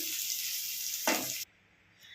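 Close, steady sizzle of sesame seeds frying in a hot kadai, with a brief stir, then the sizzling cuts off abruptly.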